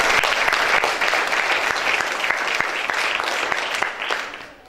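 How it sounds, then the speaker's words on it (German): Warm applause from the audience at an award ceremony, a steady dense clatter of many hands that holds throughout and fades slightly at the end. "Einen herzlichen Applaus nochmal."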